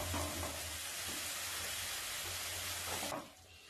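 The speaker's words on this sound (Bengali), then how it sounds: "এবার একটু মশলাটা আস্তে ধীরে কষে নেব" Faint, steady sizzle of spice paste frying slowly in a pan for Bengali fish curry, with a few soft stirring scrapes before the hiss drops away near the end.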